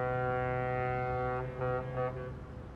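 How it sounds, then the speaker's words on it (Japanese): A ship's horn in the video game Yakuza 6 blasts as a long, steady, deep tonal drone that holds for nearly three seconds with a slight wavering near the end, loud and alone. "私この汽笛の音好きなんだ。"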